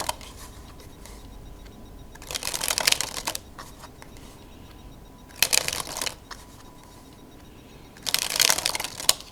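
A deck of Queen's Slipper 500s playing cards dribbled from the hand in three separate bursts of rapid fluttering riffles, each lasting about a second, close and crisp against a quiet room.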